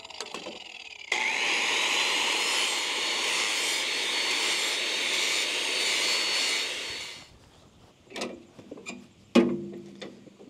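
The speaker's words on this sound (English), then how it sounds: "just going to grind the paint off the two sides that I'm going to weld" An angle grinder strips paint off metal trailer parts in one loud continuous screeching burst of about six seconds, then stops, followed by a few metallic clanks and knocks.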